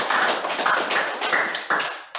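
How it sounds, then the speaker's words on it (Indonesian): Students in an Indonesian school history class clap for their classmates. The claps come as a few short rhythmic bursts of patterned hand clapping, close and fairly soft, with no talking over them. "Tepuk tangan buat teman-teman"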